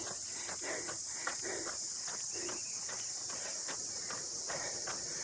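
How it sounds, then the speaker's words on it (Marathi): A steady high crickets' chirring fills the background on a night hill road at Kumbharli Ghat, with faint scattered thumps like running footsteps through it; no voices. "रातकिड्यांचा आवाज येतो आहे अजून पण"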